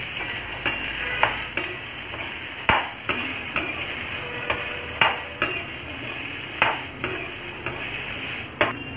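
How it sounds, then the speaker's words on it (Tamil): Turkey berries being sautéed in a little oil in a pan, with a faint background sizzle and regular clinks of a spoon against the pan, and no one speaking. "கொஞ்சமாக எண்ணெய் ஆட் பண்ணிவிட்டு நம்ம சுண்டக்காயையும் வந்து நல்லா வதக்கி எடுத்துக்கலாம்."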